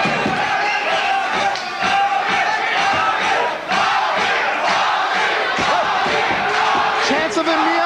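Arena crowd at a kickboxing fight roaring and shouting continuously, a loud dense wall of cheering with sharp thuds mixed in.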